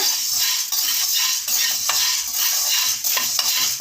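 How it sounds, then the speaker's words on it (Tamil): About a hundred grams of black peppercorns dry roast in a pan on low heat, giving a close, steady rattle and hiss with continual scraping stirs and no talking. "நல்லா சிம்மில் வச்சவும் பக்குவமாக வறுக்கணும் மிளகு"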